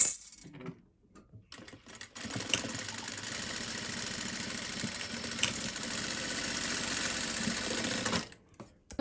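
A sewing machine stitches fabric for a homemade churidar, running steadily and close for about six seconds, with brief stops and handling sounds before and after.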